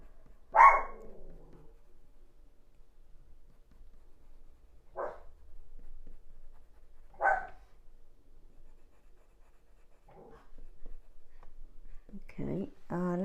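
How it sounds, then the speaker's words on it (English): A pet dog barks once sharply near the start, then a few quieter single barks follow at intervals in an otherwise quiet room, with a faint voice at the end. "There goes my dog."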